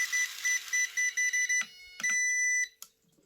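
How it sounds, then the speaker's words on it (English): A WLtoys K989 1/28 micro RC car beeps from its throttle trim setting, a high electronic beep repeating in quick pulses, then longer tones before stopping, with faint clicks in between. "we got a little beep from the car, but don't worry about that, that's just your trim"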